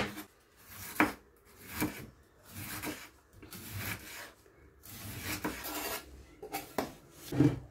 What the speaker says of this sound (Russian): Берем красную капусту и нарезаем тоненькими полосками